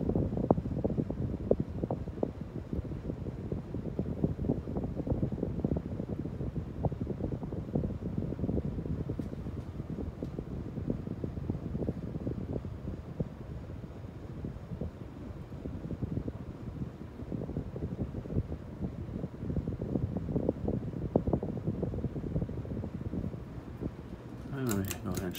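A NuTone Hug-The-Ceiling 52-inch hugger ceiling fan runs steadily indoors, a soft continuous whir and airy rush that holds level throughout while someone talks over it.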